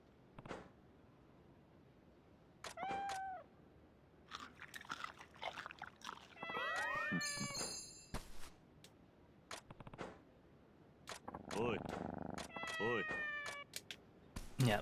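A game cat from Like a Dragon: Ishin! meows repeatedly while being fed sweet fish, several rising and falling meows mixed with crunchy chewing and biting sounds, with quiet background ambience between calls.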